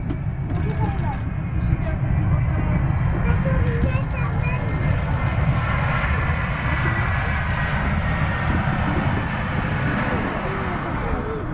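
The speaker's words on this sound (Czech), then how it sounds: "To je veliký letadlo" A large airplane's engine roars steadily overhead as it lands at Prague Ruzyně airport, a broad low rumble throughout, with people talking faintly underneath.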